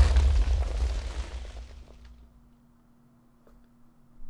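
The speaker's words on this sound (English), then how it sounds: "I don't want to set all the TNT off at once." A booming TNT explosion in Minecraft, with a loud, deep, rumbling blast that decays over about two seconds into near silence.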